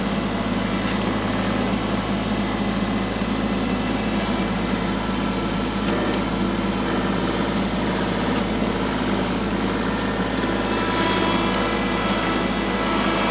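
A tractor engine runs continuously during storm cleanup of fallen trees and logs, a steady close-up drone with no pauses and no talking.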